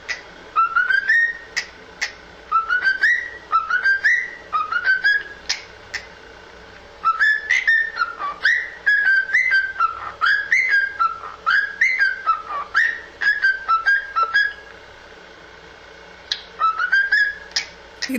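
A cockatiel whistles a full song in repeated rising melodic phrases, clear and close, with brief pauses between bursts and no talking.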